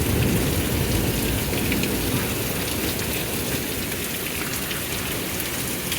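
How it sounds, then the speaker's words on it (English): Heavy hail and rain pound down steadily during a spring thunderstorm, making a loud, dense, unbroken roar with no pauses. "look at all this hail"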